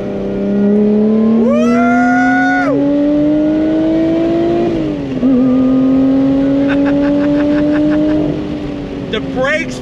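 A Lotus Evora GT engine drones loudly and climbs steadily in pitch under throttle, easing off briefly and pulling again, with a voice talking over it.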